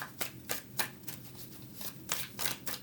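Tarot cards being shuffled in quick, uneven bursts, crisp riffling snaps close by with soft rustling between them.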